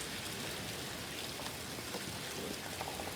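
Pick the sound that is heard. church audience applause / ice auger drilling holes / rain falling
rain falling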